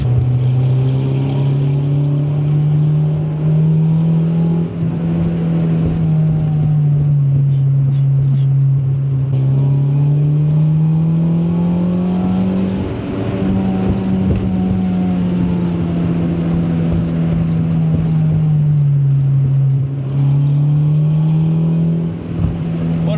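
Honda Civic with a stainless steel exhaust line, heard from inside while driving behind slow traffic: a steady droning engine note that rises and falls gently, with faint crackles and pops from the exhaust throughout.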